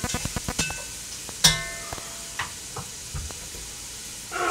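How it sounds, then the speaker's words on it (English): Diced onion sautéing in plenty of olive oil in a Dutch oven for a Greek beef dish, with a soft steady sizzle broken by sharp utensil clinks and knocks against the pot. "a diced onion that's sauteing away in a bunch of olive oil"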